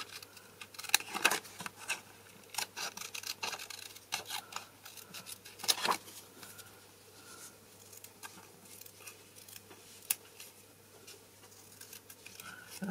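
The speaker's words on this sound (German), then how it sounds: "Das ist natürlich auch nicht die richtige Schere zum Ausschneiden." Scissors cut out a paper motif for a junk journal, producing dense, close snipping and rustling in quick irregular bursts with short pauses.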